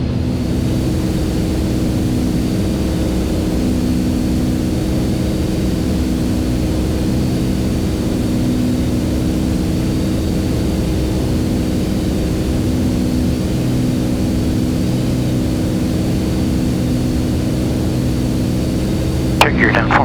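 A Beechcraft A36 Bonanza propeller plane drones steadily in flight over the Grand Canyon, a loud continuous engine hum and cabin roar filling the whole stretch, with a brief click near the end.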